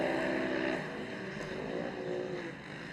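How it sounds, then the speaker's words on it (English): A side-by-side UTV racing engine on the throttle at a dirt track race, a steady loud droning roar that holds throughout, slightly fading toward the end. "Avery Sides on the throttle right now"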